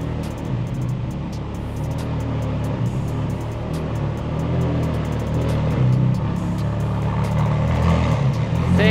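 A Ferrari F430 is driven away on the road with a loud, steady engine rumble that builds slightly toward the end. Dense road noise sits underneath it.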